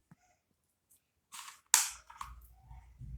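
A toy gun fires at targets with two sharp cracks, the second louder and closer, followed by low rumbling and handling noise. No one speaks.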